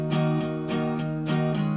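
A minor chord strummed repeatedly on an acoustic-style guitar, several bright strums in a steady rhythm over about two seconds, ringing close and loud with no talking.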